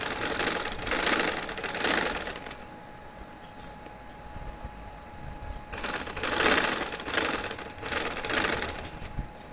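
A sewing machine runs in two bursts of stitching on trouser fabric, with a quiet pause between them; its steady mechanical whir sounds close and moderately loud, and no one speaks.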